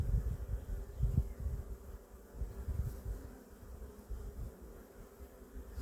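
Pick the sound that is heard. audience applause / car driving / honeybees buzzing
honeybees buzzing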